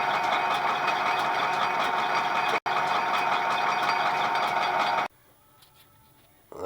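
A 14.5-inch South Bend lathe takes a light cut, giving a steady, loud whir with a high-pitched tonal whine, then a brief dropout, and finally the motor goes much quieter near the end.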